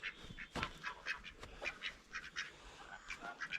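Backyard chickens that refuse to go to bed cluck and squawk in quick, irregular bursts, fairly close but faint, a busy chatter of short calls with no talk.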